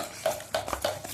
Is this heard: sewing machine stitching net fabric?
no